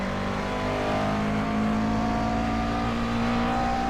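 McLaren race car engine in the iRacing sim at Sebring, a loud, steady high-revving drone held close throughout with little variation, no talking.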